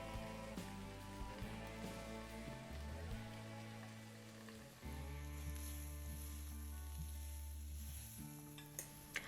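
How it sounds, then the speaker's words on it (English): Onions and green peppers sauté in a pan with a soft, steady sizzle and occasional stirring clatter, fairly quiet, with a low hum and tonal background sounds underneath and no talking. "you can start to get your onions and your green peppers sauteing"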